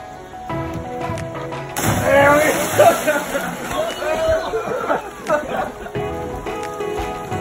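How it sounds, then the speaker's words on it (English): A basketball bounces a few times on a hard court amid background chatter and shuffling footsteps, with voices talking nearby. "Were you playing some basketball?"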